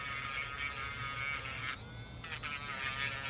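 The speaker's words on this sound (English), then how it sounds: "these little rotary tools, or if you get a Dremel" Dremel rotary tool carving a wooden sculpting tool into a spoon shape, a steady high-pitched electric whine that holds for the whole clip, dipping briefly in the middle before resuming at full strength.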